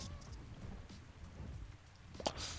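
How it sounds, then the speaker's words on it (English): Rain weather effect in the game ARK: Survival Ascended, a steady broadband hiss of falling rain with a brief louder spatter near the end, heard alone without talk. "I noticed the rain effect. The rain effect I think is pretty cool."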